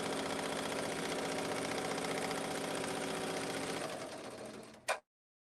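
An embroidery machine runs its placement stitch, a steady, close mechanical whirr with a fast repetitive needle chatter that holds evenly for about four seconds, then tapers and stops after a brief final clunk.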